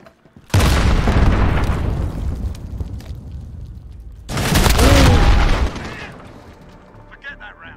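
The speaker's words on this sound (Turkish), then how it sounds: "Kendime bomba attım." Two loud, booming grenade explosions in the video game Call of Duty Modern Warfare (2019), each a heavy blast with a long rumbling tail, close and dominant, with a voice speaking around them.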